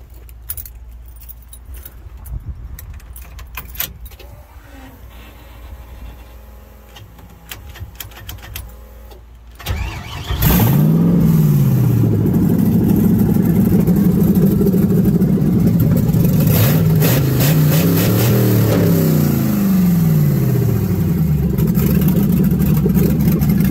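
Keys jangle for several seconds, then a 5.3 turbo-swapped B2200 truck engine cranks and catches. It runs loud and close, its revs rising and falling repeatedly as it settles into a rough idle.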